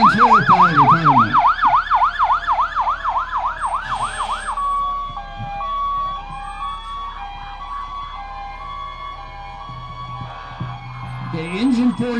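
A volunteer fire department's Kenworth crew cab fire engine, Engine 42, wails its siren in a rising-falling cycle at a festival parade, then drops to lower tones and faint horns before swelling again.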